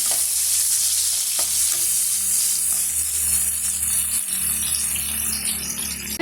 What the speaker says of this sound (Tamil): இந்த வெங்காயம் பார்த்திங்கன்னா கலர் நல்லா சேஞ்ச் ஆகிட்டு வரணுங்க அது வரைக்கும் நம்ம வதக்கி எடுத்துக்கலாம்